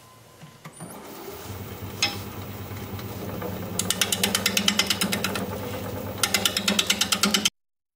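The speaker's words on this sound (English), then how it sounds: "I'm going to be using a 5/8 inch bowl gouge. We're going to be turning at 540 RPM." A wood lathe spins at 540 RPM while a 5/8 inch bowl gouge cuts a bowl. The steady motor hum carries rhythmic chattering, tapping cuts that grow louder midway, close up with no talking.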